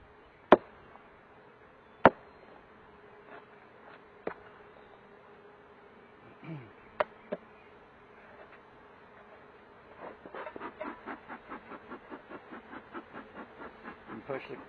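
Honeybees hum steadily around a mating nuc hive box, a low buzzing that swells louder later, with a few sharp wooden knocks and clunks early on.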